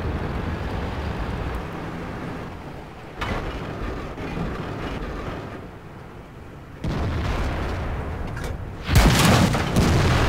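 Tank cannon blasts in World of Tanks with a KV-2, heavy booming shots amid continuous battle rumble, a loud near explosion burst near the end.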